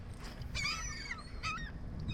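Several geese honk in short, bright bursts near a kayak out on open water, two clustered calls followed by another pair, heard over steady wind and water noise.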